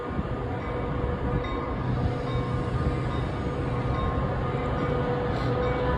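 Passenger train passing along Chicago's Roosevelt Road, a continuous loud rumble of wheels and carriages that stays close and steady throughout.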